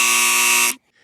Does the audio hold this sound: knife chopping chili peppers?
no